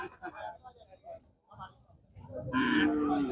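Cattle at a market for young bulls in Sylhet give a loud, drawn-out moo near the end, after stretches of people talking nearby.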